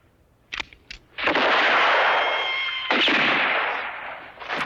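A large pistol fires in the 1965 Western For a Few Dollars More. A couple of sharp clicks come first, then a loud, booming shot with a long ringing tail and a second blast close behind.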